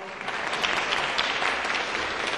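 Steady, dense clapping from an audience at a solemn session honouring tutelary councillors, sustained and fairly loud throughout.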